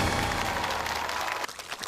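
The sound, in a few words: church members' enthusiastic cheering and applause as True Mother enters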